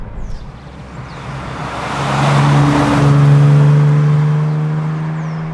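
A 1982 Ford Capri 2.8 Injection V6 engine revs up smoothly and swells louder, holding a steady throaty, creamy drone before easing slightly, close and prominent with no talking.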